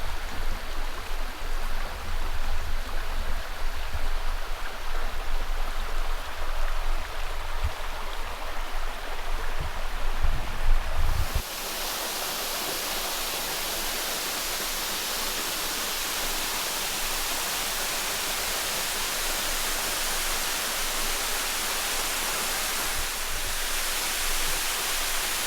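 Waterfall pouring into a pool on a hiking trail in the Ouachita Mountains near Hot Springs, Arkansas: a continuous broadband rushing roar with wind-like low rumble early on, then a steadier hiss, with no talk.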